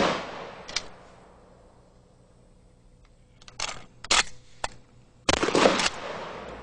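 Several sharp shotgun blasts from conventional rounds, such as number 9 birdshot, ring out at separate moments with short gaps between them, the final report loudest and longest with a trailing echo.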